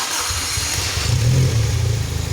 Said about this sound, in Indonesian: Ya, di sini kita hidupkan mesin.